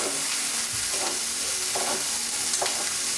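Pork tenderloin sears in a hot pan with a steady, close sizzle, broken by a few soft scraping or stirring touches, and no one speaks.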